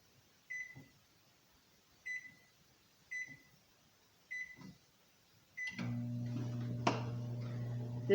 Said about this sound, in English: This microwave puts it on 2 minutes at high